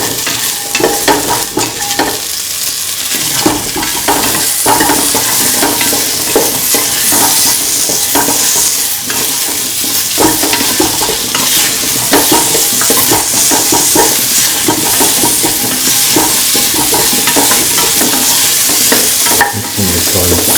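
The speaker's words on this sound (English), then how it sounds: "Mixing the salt with the potato shell." Salt paste is stirred into potato in a hot pan, with a constant loud sizzle of frying and steady scraping and stirring throughout, close and busy.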